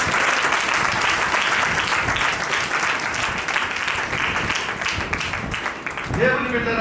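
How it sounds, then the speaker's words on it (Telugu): A congregation claps steadily through a Sunday worship service, a dense and loud wave of applause that fills the whole stretch before tapering off near the end, with a voice over it. "ఒకసారి చప్పట్లు కొట్టండి."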